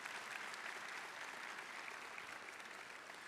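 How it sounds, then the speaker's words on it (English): Audience applause at a college commencement ceremony, a steady broadband wash of many hands clapping that holds at an even level for a few seconds with no voices on top. "All should put an applause right there."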